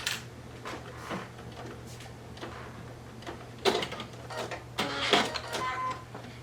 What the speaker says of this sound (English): I'm basting around just to make sure all the layers stay in place.